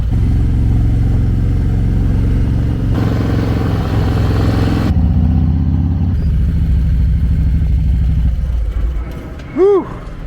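A Harley-Davidson motorcycle engine idles and putters at low speed in stop-and-go traffic, a steady loud rumble that changes in pitch partway through, with a rider speaking over it near the end.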